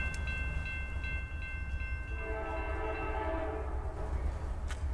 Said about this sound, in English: Stack train with Zeke.